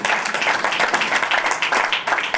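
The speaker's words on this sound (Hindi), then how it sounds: "उनके लिए एक बार जोरदार तालियां।" An audience at a ghazal album launch claps loudly and continuously, a dense, even roar of many hands from a nearby crowd.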